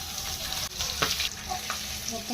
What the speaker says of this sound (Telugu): మిగతా రెండు కూడా అలాగే వేయించేస్తాం